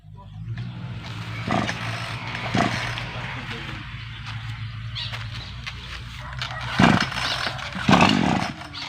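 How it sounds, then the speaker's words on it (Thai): A small two-stroke brush cutter engine drones steadily, with a couple of louder bursts as the cutter bites into wood; faint voices can be heard nearby. "ตัดไม้โดยใช้เครื่องตัดหญ้าครับ"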